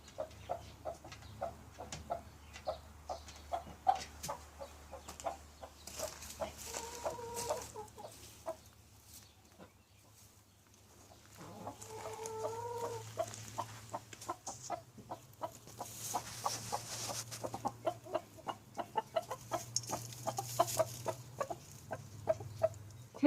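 Broody hen sitting on an egg in a quiet, sheltered nesting box, giving soft, steady low clucks in a continuous rhythmic series, close and faint, with a couple of slightly louder drawn-out calls.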